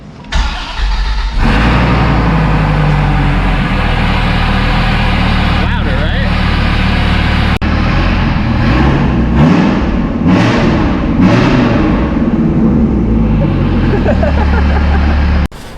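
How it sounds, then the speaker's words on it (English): A Dodge Viper ACR fitted with a full Corsa exhaust fires up and settles into a loud, deep, rumbling idle with a few revs, heard close by with people talking over it. "it's got a full Corsa exhaust on it, and it sounds absolutely nuts"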